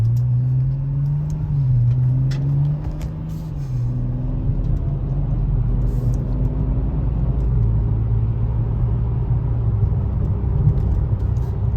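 A car on a smooth ride in comfort mode gives a steady, loud low engine drone and road rumble heard from inside the cabin, with a gently shifting pitch and no speech.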